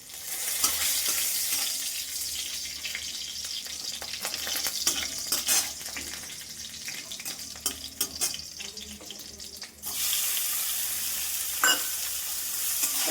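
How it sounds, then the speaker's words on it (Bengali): Garlic tempering fries in a pan with a continuous close sizzle and scattered crackles and stirring clicks, briefly dropping near the end before the hiss resumes. "আর এবার আমি এখানে রসুন ফোড়ন দিয়ে এটা ভেজে নেব"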